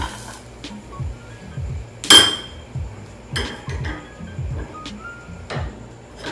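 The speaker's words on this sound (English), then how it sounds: "I'll be flipping it out of the saucepan or the egg pan." A Spanish potato tortilla is flipped out of an egg pan, giving one loud metallic clank of the pan. Scattered lighter clinks and knocks of cookware come before and after it, close by, with no talking.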